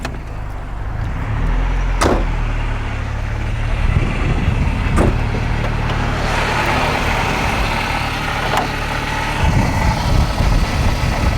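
A Volkswagen engine idles steadily with the parking brake on while it is adjusted, a continuous close rumble broken by a few sharp metallic clicks and knocks, with no talking.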